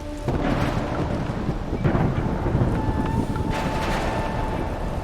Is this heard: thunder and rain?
yes